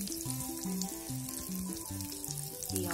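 Garlic sizzles steadily in hot garlic butter for a corned tuna pasta, a constant bright crackle running under a background music melody.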